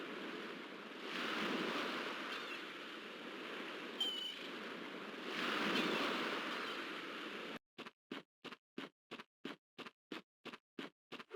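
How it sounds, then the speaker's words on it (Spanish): Ocean surf and wind from the Crash Bandicoot video game, a soft rolling wash of waves swelling and fading for several seconds before giving way to a sharp, evenly spaced series of rapid ticking pulses. "tenemos los sonidos de las olas del mar y las gaviotas"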